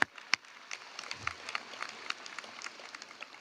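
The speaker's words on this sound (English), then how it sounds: "Please give them a big round of applause for all they did for today." Scattered applause from a modest crowd at a high school graduation, uneven claps rising and falling at a moderate distance for a few seconds.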